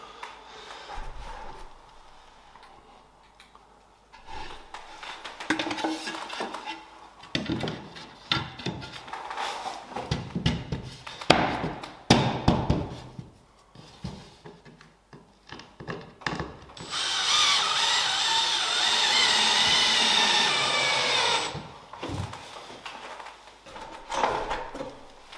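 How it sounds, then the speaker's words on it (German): Power drill driving screws to fix a drywall patch onto a support frame, several short whirring bursts with handling knocks between them, then a longer steady run near the end, close and fairly quiet. "da können wir jetzt unser Trockenbaustück da dran schrauben"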